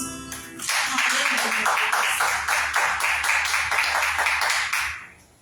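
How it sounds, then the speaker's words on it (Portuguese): A Pentecostal congregation claps together at a Thursday evening church service, a steady dense patter of many hands sustained for about four seconds before fading, with no talk over it. "Palmas."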